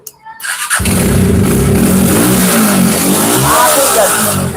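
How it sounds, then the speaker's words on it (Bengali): A Road Master motorcycle with double disc brakes catches and roars up into a loud, sustained rev that holds steady and close. "রোড মাস্টার রেভিডিও ডাবল ডিক্সের গাড়ি আনটাস ইঞ্জিনের গাড়ি"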